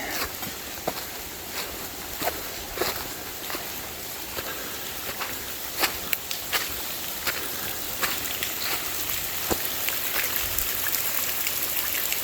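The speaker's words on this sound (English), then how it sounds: "There's that waterfall I was just filming." A waterfall on the Ozark Highlands Trail gives off a steady wash of running water in the background, broken by scattered sharp splashes and drips, with no one talking.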